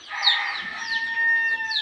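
Chickens cluck and squawk nearby in overlapping bursts, a few sharper calls rising above the flock's chatter.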